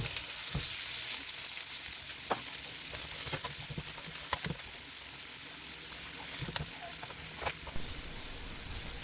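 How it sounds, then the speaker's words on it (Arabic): Chopped onions fry in melted butter in a pan for a chicken, cream and spinach pasta, giving a steady close sizzle broken by sharp scrapes and knocks as a utensil stirs them, with no talking. "وبعدين هننزل بالبصل ونقلبه لغاية ما يدبل شوية."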